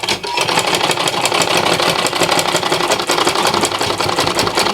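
Sewing machine topstitching a side slant pocket, a fast continuous mechanical whir with a rapid needle patter, loud and close throughout without speech.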